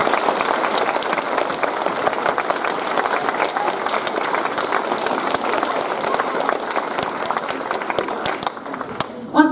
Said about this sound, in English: let's give them a huge round of applause for their efforts